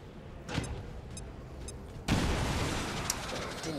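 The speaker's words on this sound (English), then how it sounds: "I'm going to put a grenade behind him." A grenade blast in the XCOM 2 turn-based strategy game, a single loud burst with a broad rumbling tail, preceded by a few lighter clicks and rattles.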